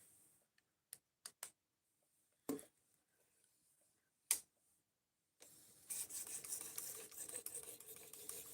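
A knife is worked on a 3,000 grit whetstone, first a few sparse clicks and scrapes, then a continuous gritty rasping stroke toward the end, close and quiet.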